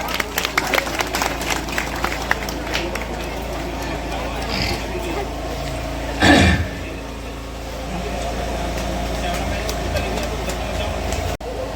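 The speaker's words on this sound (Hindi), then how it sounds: "जरा जोरदार तालियां" Clapping and crowd noise rise from a large gathering at a district panchayat welcome event, with a burst of louder applause midway amid ongoing background chatter and a loudspeaker voice.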